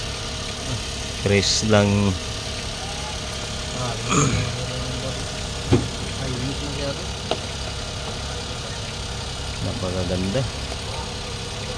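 A Suzuki DA17V turbo van engine idles steadily in the background, a low constant hum running under several short bursts of nearby talk.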